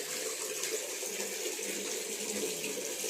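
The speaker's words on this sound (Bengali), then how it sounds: "কলের জলে মুখ ধুবে" Tap water runs steadily from a faucet while a face is washed in the morning, a close, even splashing hiss that continues throughout without pause.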